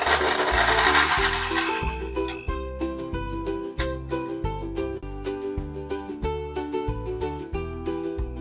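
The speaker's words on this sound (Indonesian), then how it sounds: "Oke, kita blender sebentar aja, udah hancur semua." An electric blender grinds chili spice paste in short repeated bursts, its motor whirring up and cutting out in a steady pulsing rhythm, loud and close with no talking.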